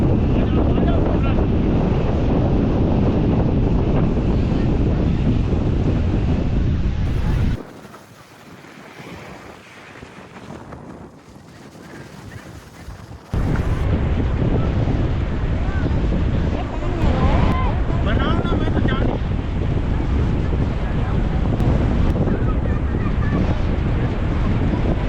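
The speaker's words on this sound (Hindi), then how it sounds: "कैमरा एक तरफ रखा और मैं सीधा समुद्र की लहरों में उतर गया।" Sea waves wash onto a beach at Dwarka in Gujarat under steady wind buffeting the microphone, a loud continuous roar that drops to a muffled lull for several seconds midway before surging back.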